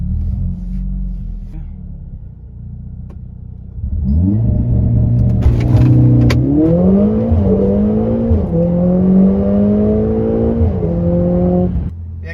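Mercedes A45 AMG engine idles low, then pulls away and accelerates hard, a loud rising growl climbing through gears with brief dips at shifts, heard from inside the car.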